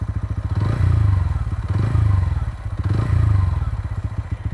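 A Royal Enfield Hunter 350 single-cylinder exhaust thumps at a steady idle, then three rev blips rise to about 3000 RPM. The pulse is close, rhythmic and throbbing, with no talk.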